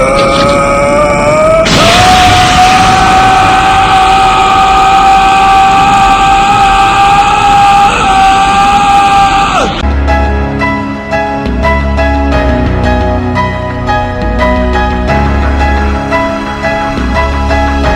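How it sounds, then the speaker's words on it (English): Goku and Gohan scream together in an animated story, a long loud sustained strained yell with a rising tone over rumbling effects, cutting abruptly into booming music and impacts. "As Goku, Gohan went and they screamed"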